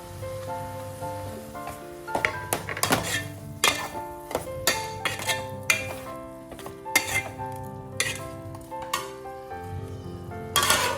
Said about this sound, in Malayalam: അരിഞ്ഞു വെച്ച തക്കാളി ഇട്ട് കൊടുക്കാം.